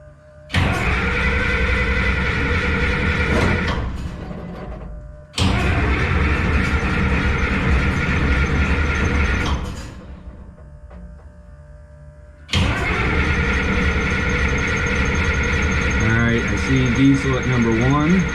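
A Minneapolis Moline A4T 1600 tractor's diesel engine runs loud and close in three long bursts of steady rumbling, cutting out twice between them to a lower idle murmur with faint clanks.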